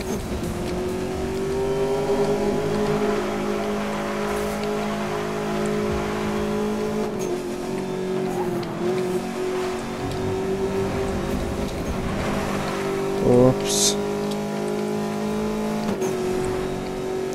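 Car engine in Need for Speed Most Wanted (2012) accelerating hard at high speed, a steady loud revving drone that shifts pitch with gear changes and a brief sharp squeal near the end, with no talk over it.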